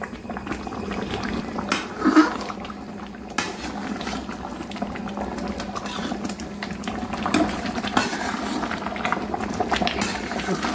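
Thick mango and jaggery mixture reducing in a pan as it is stirred, with a steady low bubbling simmer and occasional soft scrapes close by, no talking.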